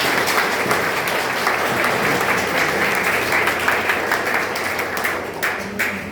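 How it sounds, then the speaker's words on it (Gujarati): A room of people applauds continuously at a memorial-day meal for blind people, producing a dense, steady crackle of clapping throughout with no talk. "આપણે સૌ એમનું તાળીઓથી સ્વાગત કરીએ"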